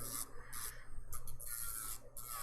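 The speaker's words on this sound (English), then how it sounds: "when using an e-file with your non-dominant hand" A quiet, high-pitched buzzing rasp comes and goes in short bursts. It sounds like a small electric file grinding against a nail at close range.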